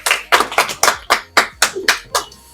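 Bursts of hand clapping ring out for participants in a Kashmiri harissa eating challenge, about nine sharp irregular claps over a couple of seconds, close and loud, with voices faintly underneath.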